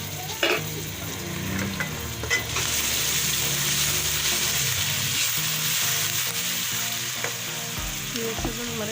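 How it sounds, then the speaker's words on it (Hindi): Garlic ginger paste goes into onions frying in a pan for a spinach and potato dish, setting off a loud, steady sizzle with stirring and occasional clinks of a utensil. "अब मैं लहसुन अदरक का पेस्ट डाल रही हूँ।"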